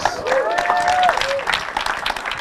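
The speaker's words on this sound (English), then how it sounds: "Big round of applause" Audience applause at an evening event welcoming a host, bursts of clapping that swell and dip over a couple of seconds, with voices calling and talking through it.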